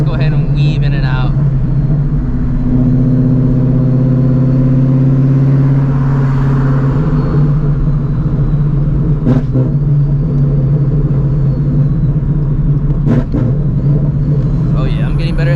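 A 900HP Shelby GT350 with a manual clutch weaves through traffic, its engine droning loud and close with steady low rumble, shifting pitch through downshifts and revs; someone talks over it.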